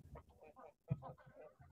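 Backyard chickens being fed cluck in a short run of soft, close calls, with a slightly louder burst near the middle and no talking.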